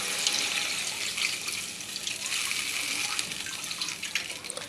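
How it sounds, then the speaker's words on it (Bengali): Water pours steadily into a cooking pan for fish, a continuous close splashing rush lasting the whole few seconds with no talk. "দিয়ে দিচ্ছি অল্প জল।"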